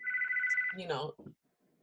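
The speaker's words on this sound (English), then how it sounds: "I just heard a phone ring and it's not mine" Steady electronic telephone ring in a classroom lecture, a sustained two-tone trill for about three-quarters of a second, then cut off as a nearby voice speaks over it; moderately loud, indoors.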